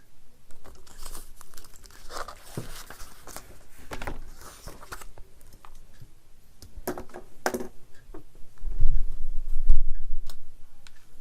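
Sheet of paper handled and crinkled while being put in place, a run of close, scattered rustles and crackles with a heavier thump and louder handling toward the end.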